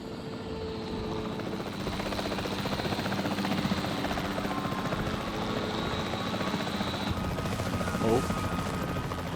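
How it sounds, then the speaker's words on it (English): A capture team helicopter in Jurassic World Evolution 3 thrums steadily with a loud, continuous rotor and engine drone over the whole stretch, while game voices speak faintly underneath. "The priority needs to be tranquilizing it with the capture team chopper."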